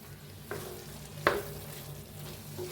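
Ridge gourd curry with coriander being stirred in a pan, a soft low sizzle under a few spoon scrapes and one sharp clink partway through, no voices.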